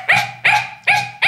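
A person voices four sharp, evenly spaced barks in imitation of an angry, snappish Yorkshire terrier, each yap loud and close with a bright, raspy edge.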